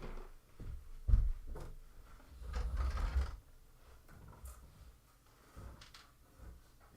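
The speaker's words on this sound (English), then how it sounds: "oh goodness, I forgot to close that drawer" A drawer is pushed shut with a low thump, then slides and rumbles for a moment before settling, followed by faint handling noises in a quiet indoor room.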